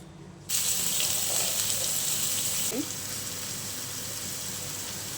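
Onion dropped into hot oil in a kitchen pan while making a veg egg curry: a sudden loud, steady sizzle begins and continues evenly, slightly easing partway through.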